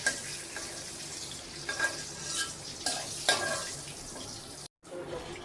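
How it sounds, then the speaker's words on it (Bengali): Slices of kakrol and pointed gourd fry in hot oil in a village kitchen, a steady sizzle broken by several scraping stirs and lifting clinks of a utensil. "এ তো ভেজে নিলাম কাঁকরোল আর পটল"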